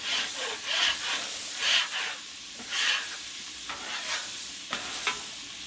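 A metal spatula scrapes across a sizzling Blackstone griddle with chicken wings in repeated strokes, about one per second, close and fairly loud.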